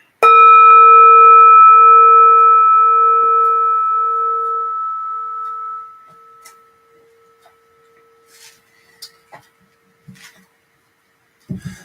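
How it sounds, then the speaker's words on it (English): A single meditation bell is struck once at the end of a sit. Its clear, loud tone rings out and fades slowly over about six seconds, followed by faint small rustles and taps in a quiet room. "I'll ring the bell to signal the end of our sit."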